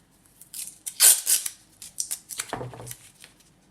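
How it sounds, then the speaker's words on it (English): Tape being torn and pressed down onto watercolour paper, heard as a few close crackling rips and rubbing strokes in a quiet room. "So I'm taping this off here."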